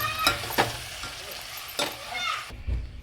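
Vegetables with biryani masala frying in a pot, a steady close sizzle broken by a few sharp scraping strokes of a spoon against the metal as it is stirred, fairly quiet.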